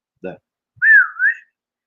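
A person imitates a whistle, a brief rising-and-falling two-part whistled call following a short spoken sound, clear and close.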